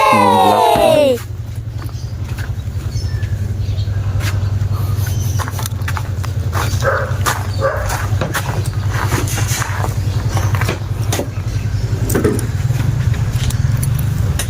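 A set of motorcycle keys jangles and clinks repeatedly over a steady engine drone, close by, with scattered metallic rattles continuing through most of the stretch.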